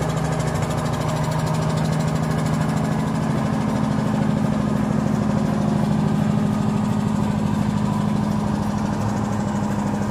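A trawl fishing boat's engine runs at a steady idle, a loud unbroken low chugging drone with a faint knocking rhythm and no change in pace from start to finish.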